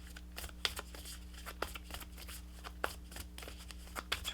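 Tarot cards being shuffled by hand, a quiet, close run of crisp riffling snaps and soft slides in an uneven rhythm, with no voices over it.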